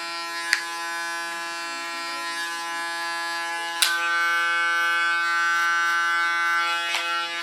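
An electric hair clipper hums steadily while cutting ultra-short hair down to about 3 millimetres, a close, constant harmonic buzz with brief sharp clicks as it touches the head.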